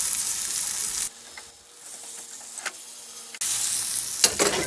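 Fish sizzles and fries in a pan, a bright crackling hiss that drops to a quieter simmer mid-way with small pops, then surges loud again near the end.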